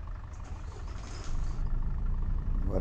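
Vehicle engine in a Brazilian Android road-driving game, a low, steady idling rumble that grows louder about halfway through and holds.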